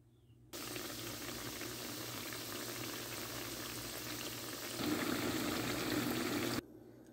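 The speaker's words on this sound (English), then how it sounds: "I'm going to fry this" Patties frying in a pan for a family dinner, a steady bubbling sizzle that begins abruptly, swells louder toward the end, then cuts off; no voices.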